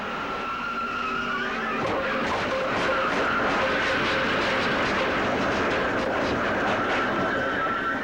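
A stock car crash recorded from inside Mark Martin's Ford: loud, continuous rattling, scraping and banging with a steady engine roar that builds over several seconds, like a pinball machine, with no talk.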